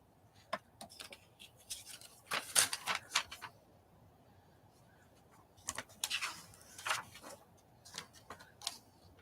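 Scissors make quick, crisp snips while cutting a small picture of giraffes out of a magazine. Two close clusters of sharp clicks and paper rustles are separated by a quiet pause, with a few scattered snips at the end.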